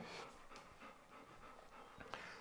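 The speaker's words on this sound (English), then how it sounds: "Do you want to go out, dog?" A female dog pants softly in a house in Italy, a quiet, rhythmic run of quick breaths at close range with no speech.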